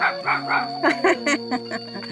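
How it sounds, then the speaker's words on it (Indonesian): A small dog barks in a string of short, high yips, about eight in quick rhythm, close by over a steady electrical hum. "sangat lucu sekali si guguk itu."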